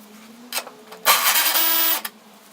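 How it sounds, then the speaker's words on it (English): A ratchet or wrench loosens a 10mm e-brake adjustment bolt on a 1991 Nissan 240SX, with a couple of short clicks followed by a sustained, close, buzzing ratcheting run about a second long. "It is a 10mm, so we're just going to go ahead and loosen that up."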